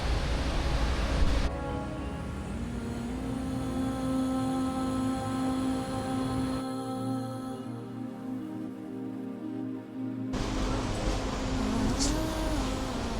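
A monorail train in Kuala Lumpur rolls into the station, a sustained mechanical hum and rumble with a tonal whine that shifts in pitch as it arrives and slows, fairly close and continuous.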